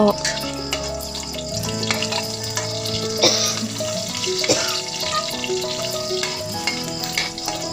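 Shallots sizzling steadily in hot oil in a pan, a continuous crackling fry with occasional clinks and stirring over a background of music.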